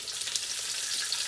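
Yellow pepper frying in a wok, a steady soft sizzle with faint stirring crackles, close and continuous with no talking.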